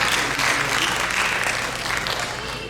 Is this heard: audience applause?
yes